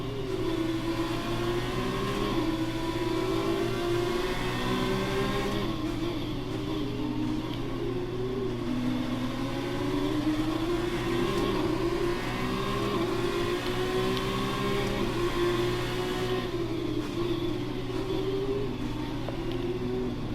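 Formula 2 car engine in the F1 2019 racing game during free practice at Bahrain, a continuous high-revving whine that rises and falls through gear changes, steady and loud without voices.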